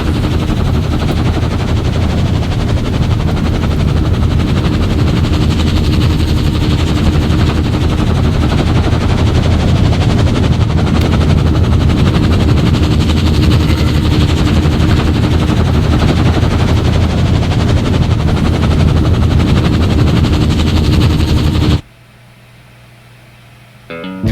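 A helicopter during the ending of the video game Firewatch gives a loud, steady, dense rotor chop and engine roar for about 22 seconds, then cuts off abruptly to near silence.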